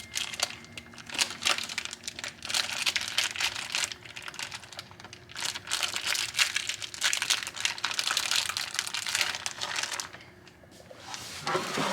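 Plastic packaging crinkling and crackling as a smoked spiral ham is unwrapped and handled in a kitchen, a close, busy stream of irregular rustles and crumples with brief pauses.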